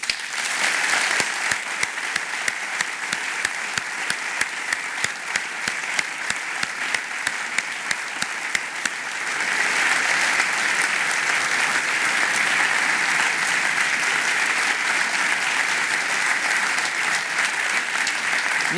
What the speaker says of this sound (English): I want the first round of applause to be for Tim Berners-Lee